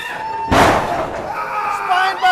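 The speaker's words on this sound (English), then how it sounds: "And and a big buckle bomb!" A wrestler lands hard on the ring mat from a buckle bomb, one loud broad thud followed by crowd noise and an excited commentator's voice shouting over it.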